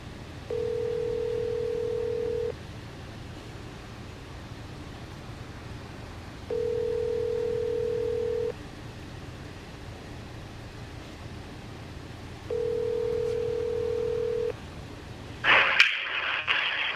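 An outgoing phone call rings through the line: three steady two-second ringback tones separated by roughly four-second pauses over faint line hiss, followed by a sharp click and a burst of noise as the call connects.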